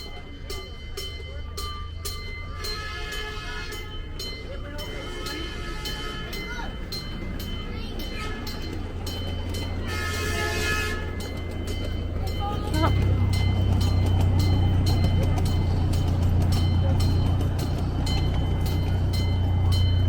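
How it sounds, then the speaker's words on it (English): A small ride train at the 2022 Phillipsburg Railroad Festival rolls along the tracks with a low rumbling drone that grows louder and closer toward the end, with faint clicks of the wheels. "I guess those tracks are in use. That's the little train ride."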